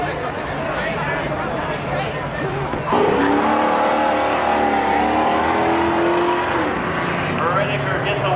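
Truck and car racing at Midvale Speedway, engines roaring and revving steadily as they run side by side, growing louder partway through, with a commentator talking over the track noise.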